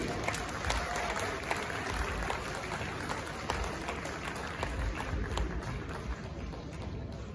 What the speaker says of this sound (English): Shall we do some more applause for him as he makes his way here onto the stage?